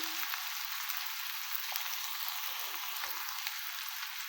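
Mixed sea fish fried with chili and salt sizzles in the pan as a steady, close, hissing crackle that runs unbroken with no voices.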